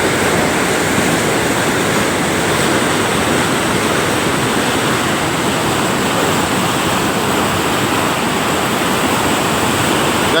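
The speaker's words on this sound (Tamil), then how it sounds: "வீராண ஏரி தண்ணி சேத்தியாத்தோப்பு ஆற்றுக்கு திறந்து விட்ருக்காங்க" Water released from Veeranam lake rushes into the river at Sethiyathope, a loud, dense, unbroken roar of churning flow heard close up and without pause.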